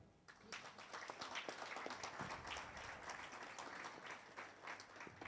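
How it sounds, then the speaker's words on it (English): An audience at a supplier development workshop in Kampala claps for a team, a steady, even wash of many hands applauding that starts abruptly and carries on for several seconds at modest loudness. "I'd like to request you to join me in giving this team a hand clap."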